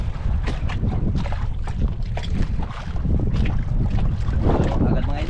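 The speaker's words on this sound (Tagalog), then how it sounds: "Pagupit ng habagat, malakas pa ngayon." Strong southwest monsoon wind at sea around a small boat near an island, roaring steadily and buffeting the microphone with low rumbling gusts, with water noise underneath throughout.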